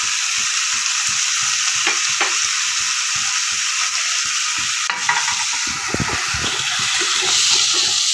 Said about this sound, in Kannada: ಎಲ್ಲ ಮಸಾಲೆಯನ್ನು ಬಾಡಿಸ್ಕೋಬೇಕು